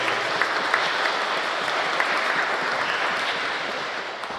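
A church congregation at Saint-Aloysius parish applauds the baptism sponsors, producing loud, dense, sustained clapping from a large crowd that continues steadily throughout.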